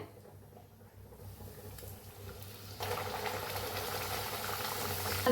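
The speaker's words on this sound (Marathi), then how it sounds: "पुरी तळून घेऊया." Puris deep-frying in hot oil bubble and hiss, starting quiet and then swelling into a steady, louder frying sizzle as fresh dough drops into the pan.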